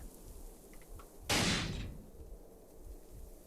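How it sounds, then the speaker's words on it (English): A single sudden blast goes off in Cataclysm: Dark Days Ahead, a sharp burst that fades over about half a second against quiet background ambience. "What was that? Explosion."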